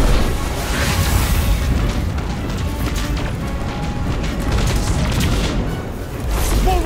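Missile barrage in Destiny 2, with dense, continuous rumbling booms and crashes from explosions landing close by, loud and sustained across the whole stretch without a break.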